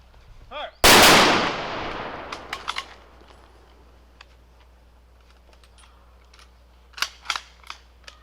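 Rifle salute volley fired at an outdoor Memorial Day ceremony in Southborough: one loud, sharp report with a long echoing decay, then quieter scattered clicks and clatter of rifle bolts a few seconds later.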